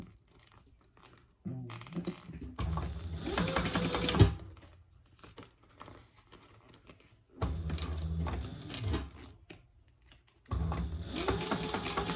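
A sewing machine top stitching a tote bag runs in three bursts of steady mechanical whirring and clatter, separated by short quiet pauses, with no talk.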